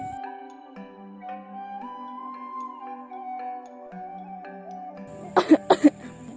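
Three or four sharp coughs burst out close by near the end of a school stage drama, following several seconds of sustained music.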